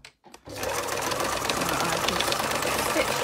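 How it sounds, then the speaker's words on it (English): A sewing machine stitches through card, starting after a short pause and running as a loud, continuous, steady whir to the end. "done a lot of sewing on my cards on this machine"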